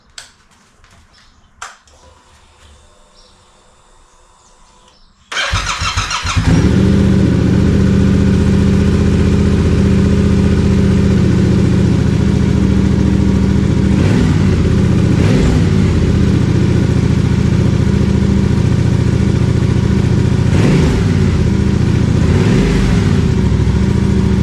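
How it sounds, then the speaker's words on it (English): A Yamaha Tenere 700 motorcycle with its stock exhaust starts up after a few faint clicks and then idles loudly and steadily nearby, with a few brief revs. "I'll probably get a sound clip of the stock pipe and the spark arrestor out."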